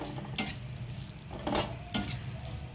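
Harira ingredients being dry-roasted together in a pan, with a few distinct scraping stir strokes of a utensil against the metal over a soft, steady background hiss.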